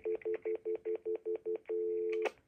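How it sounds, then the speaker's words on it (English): A telephone stutter dial tone signalling waiting voicemail on an Xfinity line: nine short, even beeps in quick rhythm, then a steady continuous tone that ends with a click. "So that's the stutter dial tone that the phone listens for"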